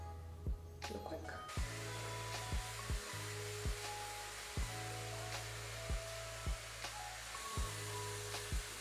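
A hair dryer blows steadily while drying hair, switching on after a brief pause and holding a continuous loud whir with periodic short tonal chirps and bumps as it is moved.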